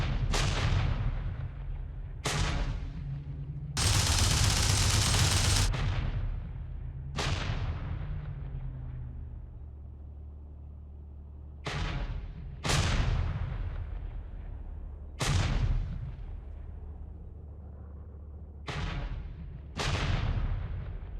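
Flak anti-aircraft fire from a Flakpanzer in the IL-2 Sturmovik flight combat game, heard from a Typhoon cockpit: heavy, booming bursts that repeat every few seconds over a constant low engine drone, each one decaying quickly.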